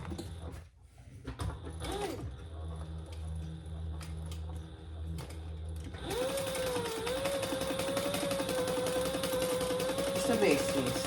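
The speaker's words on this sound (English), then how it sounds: "And we're gonna sew that just between on our zipper." A sewing machine runs a basting stitch along a zipper on a Mysa crossbody bag, its motor humming steadily, then shifting to a higher, whining tone as stitching continues.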